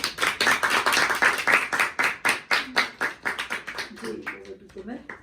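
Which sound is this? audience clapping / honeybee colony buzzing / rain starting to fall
audience clapping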